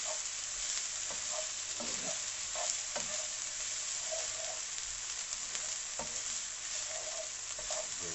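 Salt and pepper chicken pieces with chilies frying in a hot pan, a steady close sizzle with occasional stirring scrapes and pops throughout, no voices.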